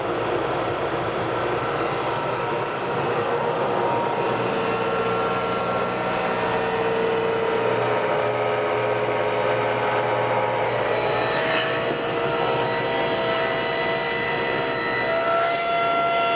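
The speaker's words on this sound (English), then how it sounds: "Now I'm going to clean up all the surfaces using my drum sander." Drum sander steadily smoothing epoxy-filled table surfaces, a continuous loud motor drone with a gritty abrasive hiss and slight changes in tone as the work feeds through, no talk.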